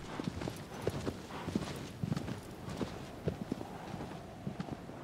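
Horse hooves clop in a quick, irregular rhythm in the video game Shadow of the Colossus on PS4, over a steady background hum, close and fairly clear throughout.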